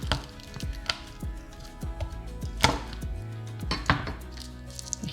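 A knife chops a garlic clove on a cutting board for air-fryer stuffed mushrooms, in a run of sharp, irregular taps with a few louder knocks, close and clear with no talking.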